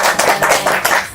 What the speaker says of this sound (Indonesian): Beri tepuk tangan untuk Bunda